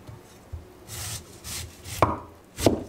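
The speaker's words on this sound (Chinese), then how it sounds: "我先把它切片。" Fresh, juicy pears sliced with a knife into a bowl at home, giving a few soft, irregular cutting strokes followed by two sharper knocks of the blade on a board, close and moderately loud.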